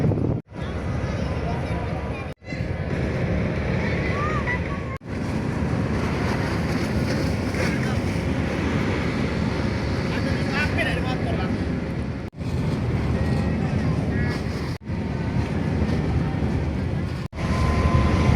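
Steady loud wind and engine rumble aboard a ferry at Merak port in Cilegon, crossing to Sumatra, with constant broadband roar broken by a few brief dropouts and a voice speaking over it.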